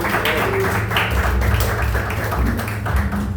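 A church congregation clapping in praise during a worship service, a steady stream of overlapping handclaps from many people filling the room without pause.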